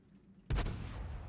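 A tank cannon fires once in the World of Tanks video game, a sudden heavy boom followed by a long rumbling decay.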